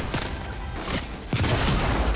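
Gunfire rattles through a Fortnite match in repeated loud bursts and booming shots, dense and close, with a heavy blast about midway. Nobody speaks over it.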